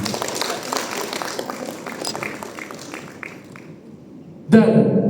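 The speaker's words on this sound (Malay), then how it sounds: "Bagi tepukan kepada diri sendiri." Audience in a hall at a summit event clapping in a dense patter that gradually thins and fades out, followed by a sudden loud burst of sound at the end.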